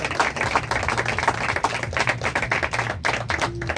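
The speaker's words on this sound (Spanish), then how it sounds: "Un aplauso al Señor nuestro Dios en esta" A church congregation applauds in a dense, continuous patter of clapping hands, moderately loud, with faint background music and voices underneath.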